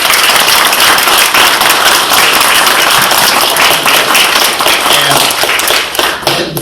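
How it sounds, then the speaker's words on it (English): Loud, sustained round of applause from an audience at a monthly community forum: many hands clapping in a dense, continuous wash that tapers slightly near the end. "let's also give a big round of applause."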